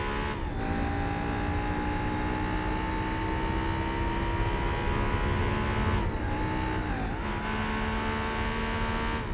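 Honda Civic race car engine in Gran Turismo 4, a steady, loud droning roar held at near-constant revs, with brief dips around shifts before the pitch climbs again.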